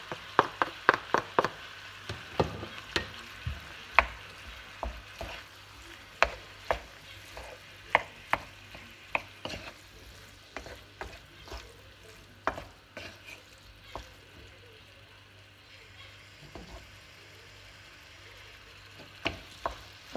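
Peeled, chopped tomato being stirred in a frying pan, with a spoon knocking and scraping the pan in an irregular series of sharp taps over a low, soft sizzle, close and alone without voices.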